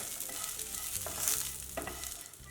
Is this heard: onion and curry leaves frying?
yes